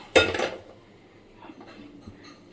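A potato dropped into a pressure cooker already holding water gives one sharp clunk and splash at the start, then quiet faint kitchen handling noises follow.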